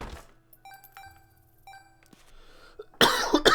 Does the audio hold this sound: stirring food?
no